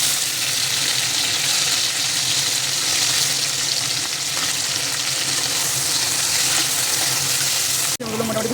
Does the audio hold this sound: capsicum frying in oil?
yes